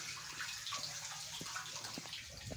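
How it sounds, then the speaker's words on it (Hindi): Water gurgles and flows steadily down a cleared drain, a soft continuous rush with small splashes and bubbling, close by and without talk. "ये देखिए इसका पानी डाउन हो रहा है"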